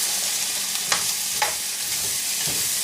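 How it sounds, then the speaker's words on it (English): Potatoes fry in a couple of tablespoons of oil in a pan for papas rancheras, a steady close sizzle broken by a few brief scraping stirs, with no talking. "Go ahead and give it a quick stir."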